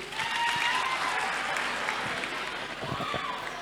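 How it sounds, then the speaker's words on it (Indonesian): A group of children claps together at a health talk event, a dense burst of applause filling the room, with a voice briefly audible near the end. "tepuk tangan dulu dong adik-adik"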